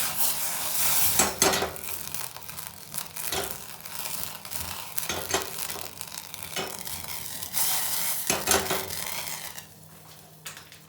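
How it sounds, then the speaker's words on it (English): Brandy flames in a hot pan for a peppercorn sauce, giving a steady sizzle with rough stirring and scraping, punctuated by sharper crackles and bursts, then fading quieter toward the end. "Then I'm going to light that, flame the brandy."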